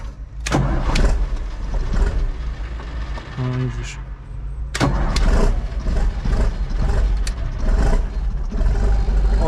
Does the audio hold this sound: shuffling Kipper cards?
no